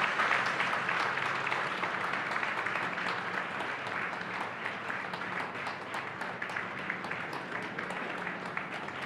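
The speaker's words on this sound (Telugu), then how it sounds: "వాళ్ళందరూ వస్తే చప్పట్ల మధ్య నమస్కారాలతో సాదర స్వాగతం" Dense audience applause fills the space at a religious discourse gathering, steady many-handed clapping sustained throughout without a break.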